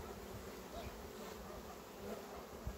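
Honey bees buzzing around beehives in an apiary, a steady faint hum filling the air with a slight outdoor wind, no clear individual flybys.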